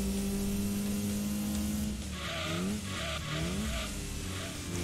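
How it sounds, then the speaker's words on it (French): A car in Gran Turismo 2000 slides with engine droning steadily, then tires squeal in several wavering bursts over a couple of seconds, loud and close. "La voiture glisse énormément."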